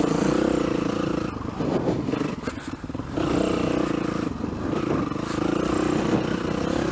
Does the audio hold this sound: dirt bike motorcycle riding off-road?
yes